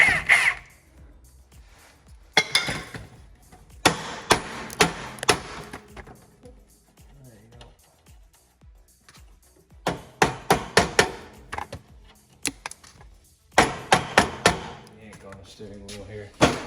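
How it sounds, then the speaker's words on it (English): Hammer blows strike a part on a John Deere lawn tractor during gas tank removal, coming in several separate bursts of sharp, ringing metallic knocks with quiet pauses between them. "I'm gonna put out a hammer."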